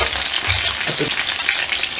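Dumplings frying in hot oil make a loud, continuous sizzle with crackling spatters throughout, heard close up.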